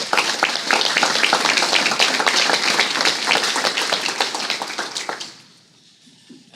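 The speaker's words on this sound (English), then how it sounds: "So let's just give a round of applause for him." Attendees at a school board meeting give a round of applause, a full burst of many hands clapping that holds steady for about five seconds, then quickly thins out and fades to near silence.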